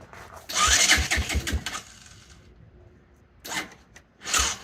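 An ATV engine, a 1984 Honda Big Red 200ES with a new replacement part, cranks in a rapid chugging burst for about a second, then quiet, followed by two shorter cranking attempts near the end, without starting.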